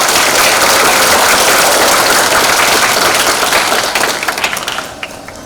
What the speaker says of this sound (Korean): 제일 큰 박수 부탁드립니다